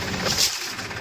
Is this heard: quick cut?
no